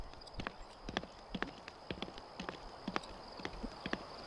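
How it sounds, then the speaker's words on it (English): Horse hooves galloping in The Sims 3 video game, a quick, regular clip-clop of hoofbeats up close, moderately loud and heard alone over a faint steady background tone. "The horse moves kind of fast."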